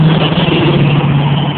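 Heavy trucks and other road traffic pass along a busy road beside a freshly tarmacked stretch, a loud continuous engine rumble and tyre roar close by with no talk.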